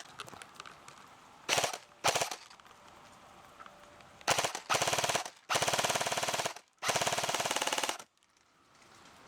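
An airsoft gun with a modified JMag test-fires in several rapid full-auto bursts of different lengths, close and sharp, separated by quiet gaps and a couple of short single pops, with no voices.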